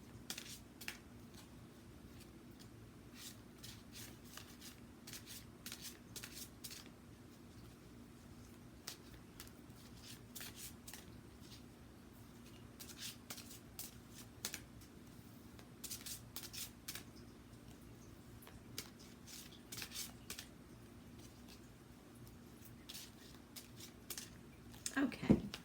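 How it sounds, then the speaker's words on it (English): Tarot cards being shuffled by hand for a weekend reading, repeated soft riffling bursts and flicks, quiet and close, spread across the whole stretch with pauses between. "So let's get shuffling the cards and then we'll get our 6 pulled."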